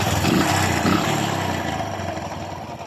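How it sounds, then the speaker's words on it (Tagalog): Kawasaki Bajaj CT 100 motorcycle engine running at normal idle with the clutch released and a knocking in the engine, a close, steady mechanical chug that stays constant and fades slightly over a few seconds. "may lagotok sa kanyang makina guys, no? Kapag naka-normal ang andar at hindi natin napiga ang kanyang clutch."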